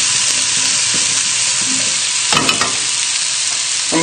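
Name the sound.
potatoes being shaken in a pan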